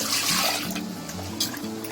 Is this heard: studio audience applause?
no